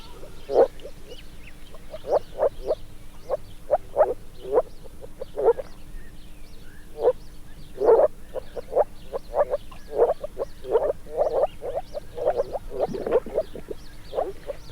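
Introduced invasive frogs croak in a dense chorus, many overlapping calls pulsing steadily and fairly close, with no voices.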